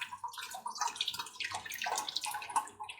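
Hot lard poured through cheesecloth into a stainless steel vessel makes a soft, close, irregular trickling and splashing stream with small drips, fairly quiet and lasting a few seconds.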